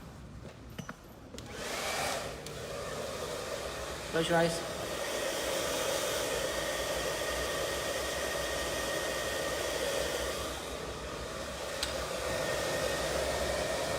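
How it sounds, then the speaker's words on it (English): A handheld hair dryer blows with a steady, loud whoosh during a layered bob haircut at a salon, running almost continuously with a few brief shifts. A voice speaks briefly under it. "Let's pick up this dryer."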